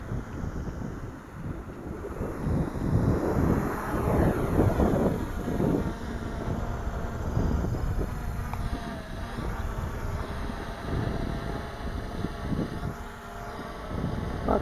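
A Hubsan X4 H501A quadcopter drone lifts off and flies outdoors, its steady whirring drone mixed with heavy wind buffeting the microphone throughout.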